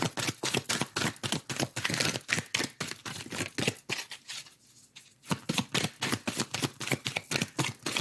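Oracle cards are shuffled by hand in rapid, close crisp riffles and slaps that run steadily, with a brief quieter pause midway before the shuffling picks up again.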